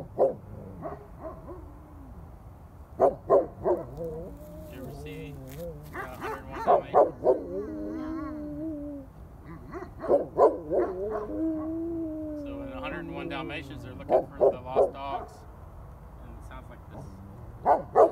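Great Pyrenees livestock guardian dogs bark and howl at coyotes at a distance in repeated bursts, with long drawn-out howls between clusters of barks, sounding across open land at night.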